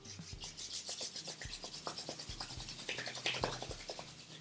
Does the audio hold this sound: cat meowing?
no